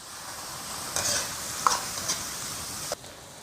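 A hot wok sizzles steadily as a splash of high-proof liquor hits a stir-fry of beef with Sichuan peppercorns, ginger, scallion, garlic and pickled chilies, with a few sharp crackles and a spatula scrape.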